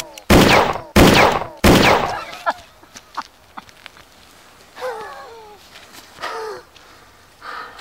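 Three loud, sharp gunshots in quick succession on a film set, followed by quieter shuffling and brief voices.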